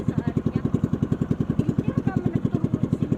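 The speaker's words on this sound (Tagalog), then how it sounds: "So medyo laylo lang yung ating pagpatakbo ng motor." A small fiberglass boat's motor runs slowly at low throttle, giving a steady, rapid, even thumping putter that stays close and loud for the whole stretch.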